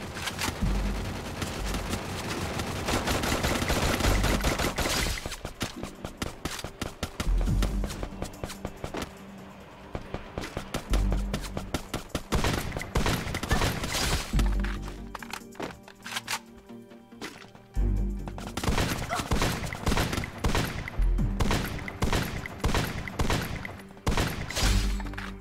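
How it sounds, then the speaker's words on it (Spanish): Gunfire in the battle-royale game Free Fire: dense bursts of shots and impacts crowd together with brief lulls, loud and close throughout, with no voices heard over the action. "No sé dónde me disparan, ¿eh?"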